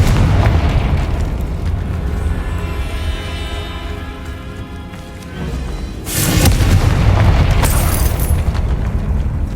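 A Confringo blasting spell in Hogwarts Legacy lands as a heavy booming explosion with a rumbling tail. A second loud blast follows a few seconds later, both close and dominant, with no talking.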